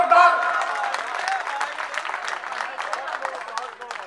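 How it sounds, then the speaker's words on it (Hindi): A crowd at an Urdu mushaira claps warmly to welcome a poet onto the stage, a dense, steady wash of applause with voices calling out over it throughout. "इस्तकबाल करिए तालियों से जोरदार"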